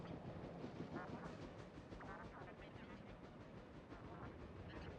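A train runs at night in the video game Factorio, producing a steady, dense rumbling roar with faint rhythmic clatter throughout. The sound stays quiet and continuous, with no clear talking.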